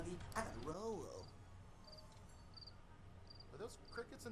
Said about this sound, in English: those crickets in the movie, or are they?